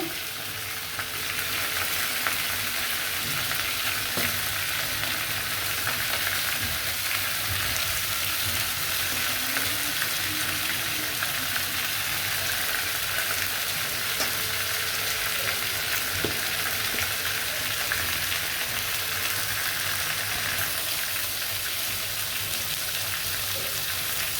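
A close, continuous sizzle comes from chicken frying in a pan for a chicken roast. Fine crackles run through it, it holds a steady level throughout, and nobody speaks.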